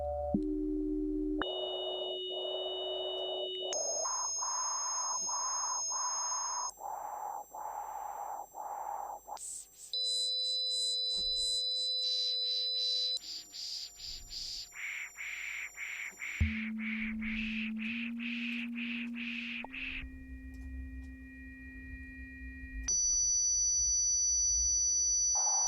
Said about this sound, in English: Few random tones.